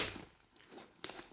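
Crinkling and crackling of the plastic wrapping on a soft-pouch first aid kit being handled and pulled open, with a sharper tearing rustle near the end.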